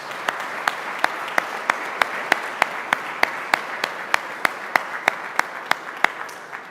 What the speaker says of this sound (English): How about a round of applause for these young ladies?